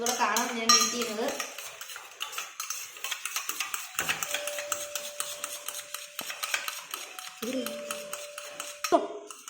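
A spoon whisks eggs in a bowl, with quick metallic clinks and scrapes that pause briefly midway and then resume, heard up close; a soft voice is heard briefly alongside.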